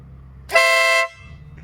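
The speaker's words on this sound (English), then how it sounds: "I've now got the Denali SoundBomb fitted." Denali SoundBomb air horn fitted to a Triumph Tiger 800 motorcycle, tested outdoors: a single loud, close, piercing honk lasting about half a second, with quiet surroundings before and after.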